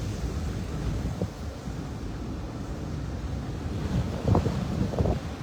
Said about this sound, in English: Wind is kicking up now.